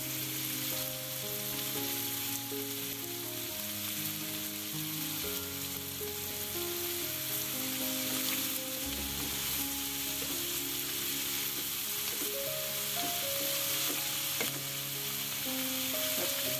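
Chopped potato sizzling in a pan for an egg and cabbage fry, a steady, close crackle of frying oil with some stirring, alongside background music.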